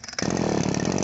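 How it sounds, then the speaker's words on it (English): A gas lawnmower engine in a video game sputters to life and then runs loud and steady with a rough, buzzing drone, alone with no talk over it. "Hold on, I'm gonna try to use this lawnmower."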